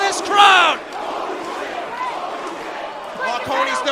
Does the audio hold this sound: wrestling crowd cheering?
yes